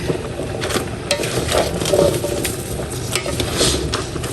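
Crab and coconut milk stew bubbling and being stirred in a pot, a steady moderate simmer with soft scraping stirs and occasional light clicks, no voices.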